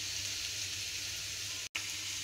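Potatoes fry in hot oil in a pan while a mushroom curry is being cooked, giving a steady, close hiss of sizzling with no voices. The hiss drops out briefly once and then carries on.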